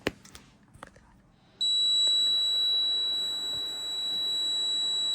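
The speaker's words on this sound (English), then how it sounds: "How do I disable this stupid alarm?" A few light knocks and clicks give way to a server's alarm, a loud, continuous high-pitched electronic beep tone that starts abruptly and sounds steadily to the end, close to the microphone.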